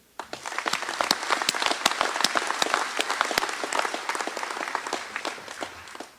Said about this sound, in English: please join me again in giving this group of Como employees one more round of applause